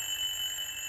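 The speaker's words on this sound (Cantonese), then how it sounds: "鬧鐘聲" An alarm clock ringing as a played sound effect, a steady high-pitched electronic tone held continuously through the brief moment with no voices.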